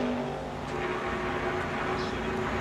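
Race cars roaring past in a tight pack at Talladega Superspeedway during the 1995 IROC race, a steady loud engine drone with no break, blended with faint crowd and track ambience.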